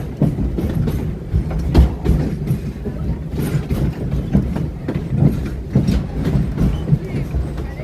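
A theme park ride train rolls along its rails at Animal Kingdom, a steady rumbling with rhythmic clicks and clacks from the wheels. The sound is close and fairly loud, with muffled voices mixed faintly into the noise.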